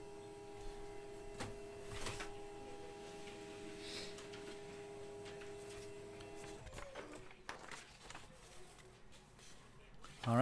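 A printer runs out a list for a baseball card box break, a steady mechanical whine with humming tones for several seconds, then the motor stops and paper handling clicks and rustles follow near the end.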